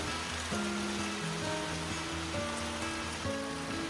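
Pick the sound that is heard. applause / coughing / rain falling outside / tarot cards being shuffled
rain falling outside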